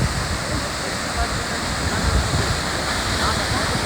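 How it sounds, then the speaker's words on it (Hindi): Vasudhara Falls, a large waterfall in a valley near Badrinath, pouring down in a steady, loud, dense roar of crashing water that fills the whole scene without a break. "पानी बिल्कुल गिर रहा है जैसे पत्थर गिर रहे हो।"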